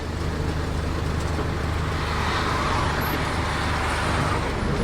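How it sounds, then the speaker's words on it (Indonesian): A public bus in Brunei rolls along with passengers aboard, a steady, loud interior rumble of engine and road noise without breaks or speech. "Kalau bus gini itu nggak mungkin laju ya jalannya, paling-paling 40-50 saja ya."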